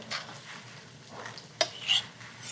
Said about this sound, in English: As soon as you begin to cook anchovies, they begin to melt away in the pan